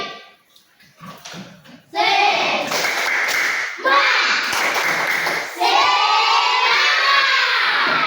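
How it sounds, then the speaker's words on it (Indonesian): A class of schoolchildren clapping spiritedly in a classroom: loud, dense, continuous hand-clapping bursts with children's shouts mixed in, after a quieter start with a few voices. "Ibu minta kalian semua tepuk tangan semangat"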